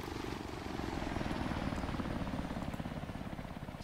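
A helicopter in a video game makes a steady rotor chop that pulses rapidly and evenly over a broad engine drone, holding at a fairly constant level throughout with no voices.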